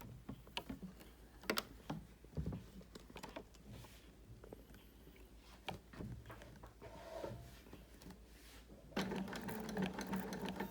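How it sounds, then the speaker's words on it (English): Sewing machine stitching a heart-shaped border, with short bursts of rapid stitching separated by pauses and handling noises, ending in a louder sustained run of continuous stitching up close. "Couple of stitches for start, for security"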